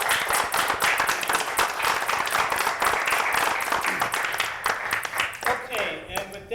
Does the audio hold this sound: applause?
yes